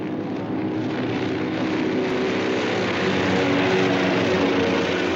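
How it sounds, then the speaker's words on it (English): WWII American propeller aircraft in flight, a dense steady engine roar without any break, loud and constant throughout. "150 American planes took to the air"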